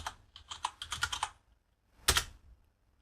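Keystrokes on a computer keyboard as a Linux command is typed: a quick run of about nine close, crisp clicks, a pause of silence, then one louder stroke like a press of the Enter key, all near and without talk.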